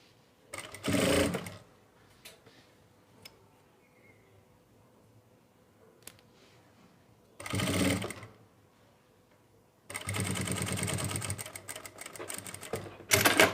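Sewing machine stitching saree pleats onto a ready-made belt in three bursts, the last one longer and steady, with quiet pauses between them.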